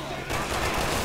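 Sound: gunfire from enemies in video game Resident Evil 6

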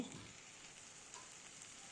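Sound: onions frying in oil in a wok

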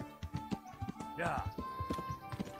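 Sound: horse galloping in Kingdom Come: Deliverance video game

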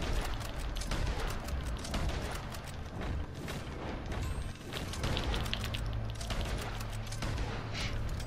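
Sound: gunfire in the video game Red Dead Online

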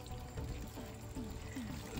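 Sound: pouring water onto repotted marigolds

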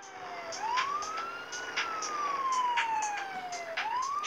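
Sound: police car siren in a racing video game

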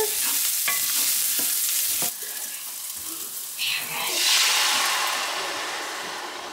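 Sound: onions and asparagus frying in butter

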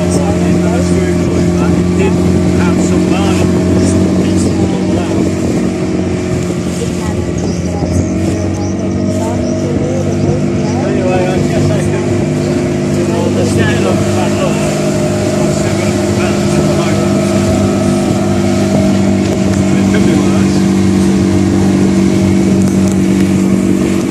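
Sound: sailing yacht boat on the water

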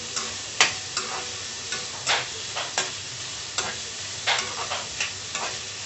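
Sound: onions frying and being stirred for chicken tikka masala gravy

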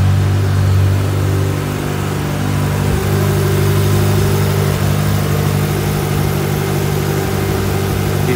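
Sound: 1995 Ferrari F355 GTB engine idling, exhaust note

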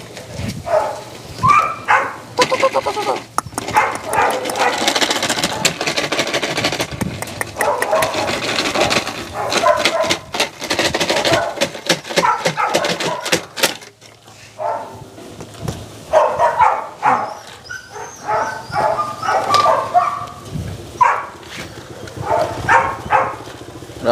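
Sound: Belgian Malinois puppies barking

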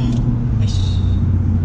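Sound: Nissan GT-R R35 770 hp accelerating in second gear

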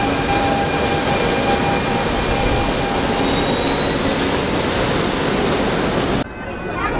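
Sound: train to Disneyland Paris running

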